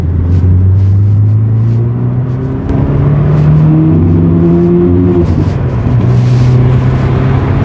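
A VW Golf GTI Mk2 with the 8V engine revs loudly and close, its pitch rising and falling through several pulls and gear changes in a steady, droning roar.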